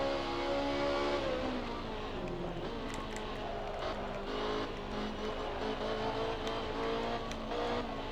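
A racing car engine in a sim racing game revs up and drops repeatedly as the throttle is pumped, a steady droning whine with shifting pitch, close and continuous, with no talk.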